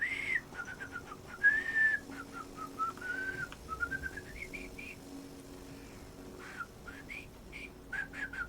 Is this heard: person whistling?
yes